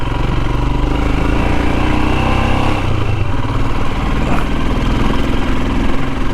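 A Royal Enfield Himalayan motorcycle rides along narrow Cornish country lanes, its engine a loud, steady, close drone that continues without a break, with rushing wind noise over it.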